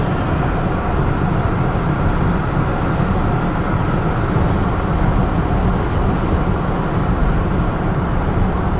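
A 1975 Buick Century Regal with a 350 V8 cruising on the road, its engine drone and tyre-and-wind rumble forming a steady, loud, continuous wash throughout, with no voices.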